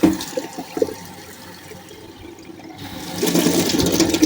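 Water gushes steadily from a tap, a loud rushing stream that dips briefly and then surges back stronger.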